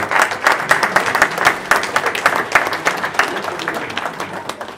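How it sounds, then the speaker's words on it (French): An audience at a political meeting in Aix-en-Provence breaks into loud, sustained applause, dense rapid clapping from a large crowd that tapers slightly toward the end. "Et j'aimerais que tout le monde applaudisse."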